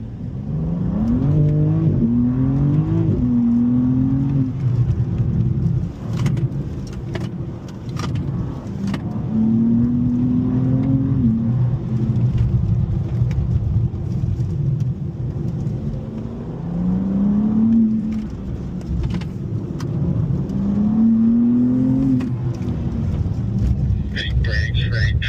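A BMW car laps the race track at the BMW M School in Spartanburg, its engine revving up and down through repeated accelerations and gear changes, loud and steady throughout, with occasional speech over the engine.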